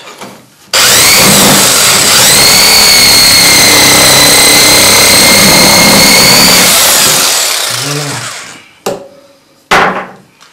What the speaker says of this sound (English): We can use the smaller jigsaw, which is a bit more accurate.